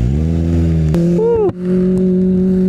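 A Kawasaki ZX25R motorcycle engine runs loud and close on a rainy ride, holding a steady high-pitched drone that dips briefly mid-way and then settles back to a strong, even pitch.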